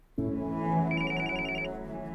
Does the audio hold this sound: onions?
no